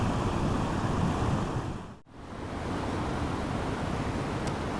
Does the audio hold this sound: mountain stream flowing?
yes